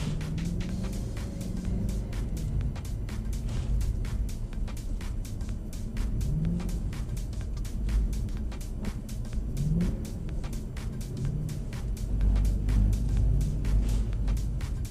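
A Mercedes-AMG car driven sideways on a track during a joyride, its engine revving and surging in rising and falling waves with a steady rumble, loud and close, with no talking.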